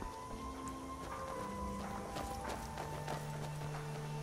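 Faint, quick hoofbeats of a horse galloping in Skyrim, soft rhythmic thuds set low under steady game music and ambience, with no speech.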